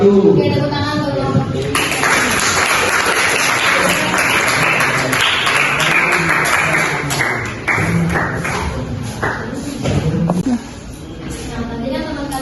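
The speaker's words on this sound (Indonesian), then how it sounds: "Oke, tepuk tangan dulu." A classroom of students applauding during a lesson, close and loud clapping that swells in after a moment, stays dense and uneven, then thins toward the end with voices mixed in.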